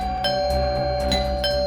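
A doorbell rings again and again in a TV crime drama, with sharp chimes recurring several times over a steady, full background tone.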